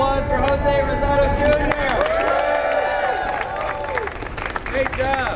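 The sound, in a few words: crowd applause at library protest rally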